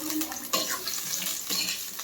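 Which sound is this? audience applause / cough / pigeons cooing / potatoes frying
potatoes frying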